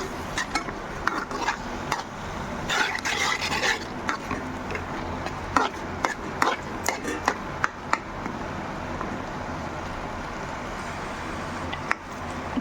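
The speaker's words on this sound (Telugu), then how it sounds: "అంతా కలుపుకుందామండి." A spoon scrapes and clatters around a pan while tomato and red chili chutney with turmeric is mixed, irregular close metallic knocks over a faint background hiss.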